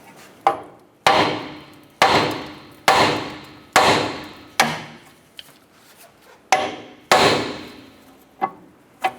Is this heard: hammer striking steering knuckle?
yes